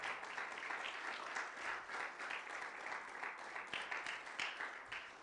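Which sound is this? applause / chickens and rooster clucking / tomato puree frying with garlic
applause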